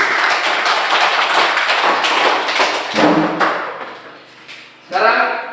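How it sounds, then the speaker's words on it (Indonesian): A classroom group claps together in a dense burst of applause that stays strong for a few seconds, then thins out and fades, with a brief rise of noise near the end. "kita berikan tepuk tangan sekali lagi"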